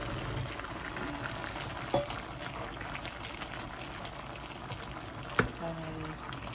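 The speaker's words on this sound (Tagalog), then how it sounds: "mga 5 minutes na siyang kumukulo" Steady bubbling simmer from a pot of pork ribs stew, a soft continuous hiss and burble, with a couple of sharp clinks of a utensil against the rim.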